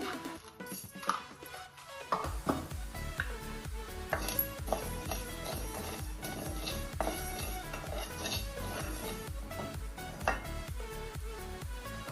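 Coriander seeds dry-roasting with whole spices in a pan on a gas stove for homemade misal pav masala: close, rhythmic metallic scraping and clinking from a spoon stirring, steady throughout.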